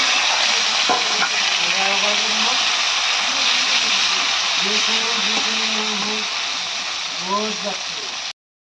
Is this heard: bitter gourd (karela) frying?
yes